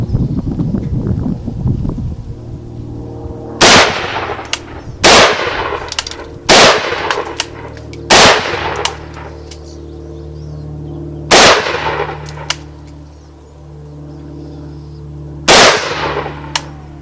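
Yugo PAP M92 pistol fired outdoors at a target about 25 yards away, loud single shots in an irregular series of roughly eight, each sharp crack followed by a short decay, over a steady low wind rumble.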